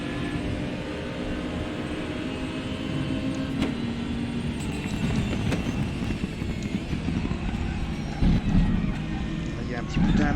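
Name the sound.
Porsche race car driving in RaceRoom racing video game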